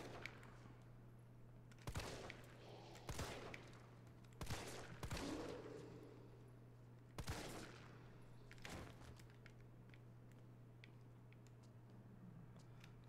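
Gunfire in the video game Resident Evil 3 Remake, several sharp bursts of shots spaced a second or two apart over a steady low hum, fairly faint and with no talking.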